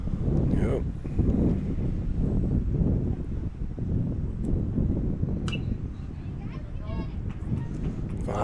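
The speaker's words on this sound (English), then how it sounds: "Clear, windy day here in Florida." Wind blusters across a microphone at an outdoor high school baseball game in Florida, a steady low rumble throughout with voices talking over it.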